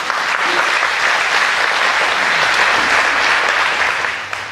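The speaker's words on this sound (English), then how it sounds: "applause for Sam" A dense, steady round of audience applause at a school dessert concert welcomes the MC, holding loud and even throughout before tapering off at the very end.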